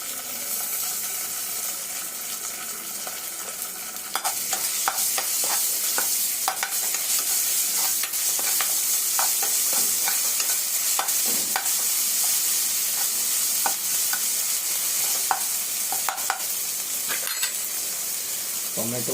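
Ginger-garlic paste sizzles and fries with onions in a hot pan, with continuous bright hissing and repeated scraping stirs and clicks of a spoon against the metal.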